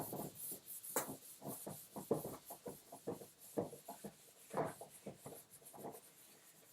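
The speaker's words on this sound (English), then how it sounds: "Let me erase this." A board being erased with quick, rhythmic rubbing strokes, a steady series of short scuffing swipes, close and fairly soft, with no talk.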